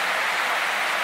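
Heavy rain at a roadside spot in Laos, a dense, steady hiss filling the whole second at a constant loud level with no voices.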